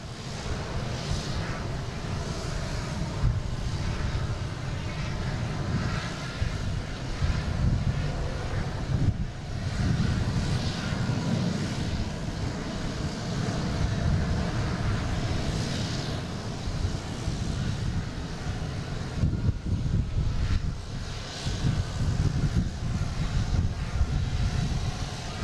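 Jet engine roar of a KLM airliner at Boston Logan airport, a steady broad rumble holding for the whole stretch with wind buffeting the microphone, with no one talking.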